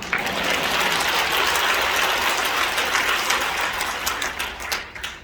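An audience at a church thanksgiving service for a new leader claps steadily in dense, loud applause that thins and fades toward the end.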